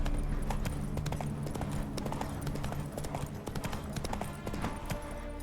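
Hooves of the horse galloping in The Witcher 3 video game, a rapid, steady clip-clop drumming close by over continuous low ambient rumble, with no voices.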